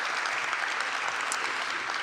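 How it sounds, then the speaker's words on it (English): A steady wash of audience applause fills a preservation awards ceremony hall, dense and even clapping from a large crowd, moderately loud and sustained without pause. "Would you please give her a round of applause?"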